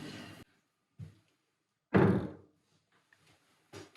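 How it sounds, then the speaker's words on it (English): A newly installed door in a DIY bathroom renovation swings open and shut, giving a few short, close wooden thuds and knocks separated by quiet gaps. "The door opens and closes."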